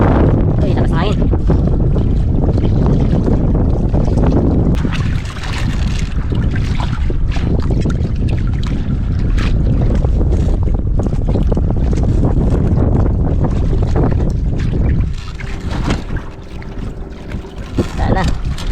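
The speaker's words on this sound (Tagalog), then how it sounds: "Uy, lakas ng hangin." Strong wind buffets a microphone aboard a fishing boat at sea, a loud, constant roar with gusty surges that eases near the end, while people talk beneath it.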